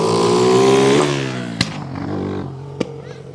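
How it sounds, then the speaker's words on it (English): A loud motorbike engine roars past close by on Blackpool's Middle Walk, its pitch dropping as it fades, with two sharp clacks after it. "noisy motorbike. There's always one, isn't there?"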